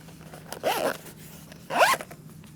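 Two quick, close zips sound as a zip bag holding a rolled-up flexible solar panel kit is zipped shut, each a short rising rasp separated by a moment of quiet.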